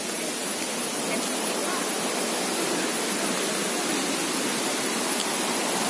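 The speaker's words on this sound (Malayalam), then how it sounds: "ഇതാണ് വെള്ളച്ചാട്ട്." Aanachaadi waterfall in Kerala sends out a constant, dense roar of falling water, loud and even from start to finish with no breaks.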